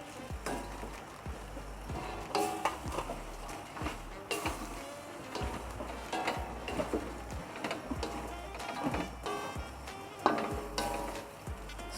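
Prawns deep-frying in hot oil, a faint continuous bubbling crackle with scattered clicks and knocks of a utensil against the pan.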